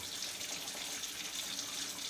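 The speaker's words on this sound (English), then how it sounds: "That's my water running, by the way." Tap water runs steadily from a faucet in a home kitchen, a soft continuous hiss held at an even level throughout with no talk over it.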